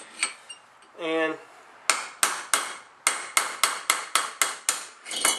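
Metal hammer strikes a flat chisel to drive a bearing onto a commercial mower, a brief scrape first, then a steady run of about a dozen sharp, ringing taps, close and loud with short pauses between.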